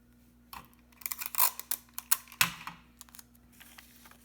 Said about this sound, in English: Get a piece of tape and tape the back.